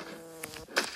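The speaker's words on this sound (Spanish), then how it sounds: "Uy, casi me mata esa abeja." Buzzing bee enemy in the platform video game Lep's World 3, heard as a brief, faint electronic buzz mixed with other light game effects.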